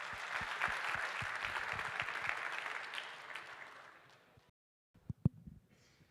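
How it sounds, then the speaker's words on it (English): Conference audience at a CREDAI NATCON event in Abu Dhabi applauds with dense, steady clapping that gradually fades out, followed by a few isolated claps and thumps after a short silence. "Give him a round of applause."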